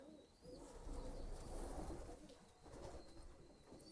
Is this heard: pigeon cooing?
yes